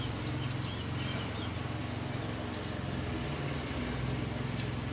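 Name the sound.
lawn mower running outside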